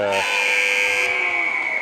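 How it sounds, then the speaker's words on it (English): Ice hockey arena buzzer sounding the end of the first period in a Whitley Bay vs Milton Keynes Falcons women's league game, a loud sustained electronic blare lasting about two seconds over crowd and rink ambience. "buzzer's gone then for the end of the first period"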